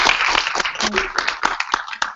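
An audience applauding panel speakers at an event, a brief burst of dense, close clapping with uneven individual claps, with some voices mixed in.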